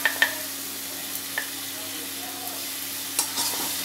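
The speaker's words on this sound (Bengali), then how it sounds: "দিয়ে এবার এটা একটু ভাজা ভাজা হতে থাকুক" A paste of onion, garlic, ginger, green chilli and tomato fries in hot oil in a karahi, giving a steady close sizzle broken by a few sharp clinks of a stirring utensil.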